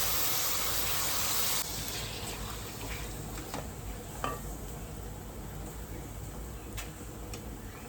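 Lima beans and potatoes are tossed into spiced oil and sautéed, giving a soft, fairly faint hiss with occasional light clicks and scrapes of stirring.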